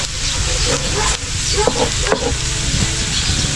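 Onions and garlic sizzle steadily in a hot pan, a close, continuous frying hiss with a few stirring clinks and scrapes.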